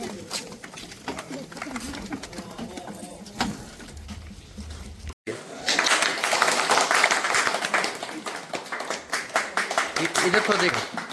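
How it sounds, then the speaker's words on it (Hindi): Applause at a welcome ceremony for sanitation workers in Ghoshrama panchayat, Darbhanga, heard as a brief dense patch of clapping after a short gap, loud and close, with people talking before it. "ताली जारी रखिए ना।"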